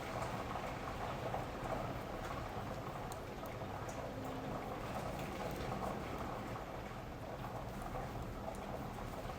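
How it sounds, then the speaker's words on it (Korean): Steady rain falls outdoors in France, a faint, even wash of patter heard from indoors with no speech. "빗소리 들으면서 뜨게 하니까 아주 좋습니다."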